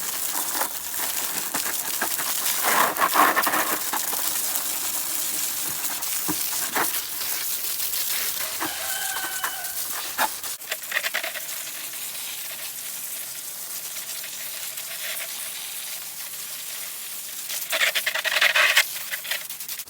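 Water from a homemade bottle-top sprayer, not a pressure washer, hisses and spatters as it washes dirt and grass off black traps outdoors. The spray runs close and fairly loud, surging in bursts and easing off partway through.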